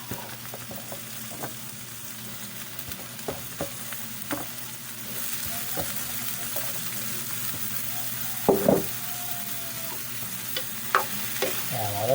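Vegetables stir-frying in a home pan, a steady low sizzle with scraping and stirring clatter, a few sharper knocks of a utensil against the pan, continuous and fairly quiet with no talking.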